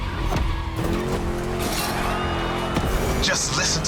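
Growling V8 engine of a car racing in The Crew Motorfest, throaty and continuous with rising and falling revs and brief tire squeals, heard under someone talking.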